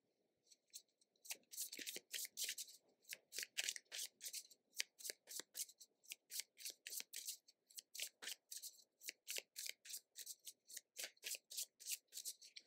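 A deck of playing cards is shuffled by hand in steady, rapid bursts of riffling that repeat for the whole stretch, close and fairly quiet, with no talking.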